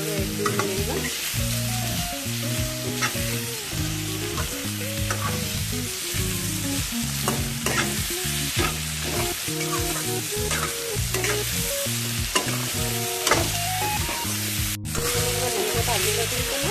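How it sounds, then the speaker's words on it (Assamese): Kuchia eel fried and stirred in a pot, a steady loud sizzle with rhythmic scraping strokes of the stirring spoon throughout. "এতিয়া আমি ইয়াত কুচিয়াখিনি দি দিম কাটি থোৱা এইখিনিটো ভাজিম আমি এনেকৈ ভালদৰে 1-2 মিনিটমান"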